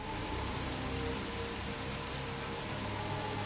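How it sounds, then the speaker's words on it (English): Rain sound effect playing as tabletop ambience, a steady dense hiss of heavy rainfall on a surface, constant and enveloping with faint low rumble and no talking. "the rain"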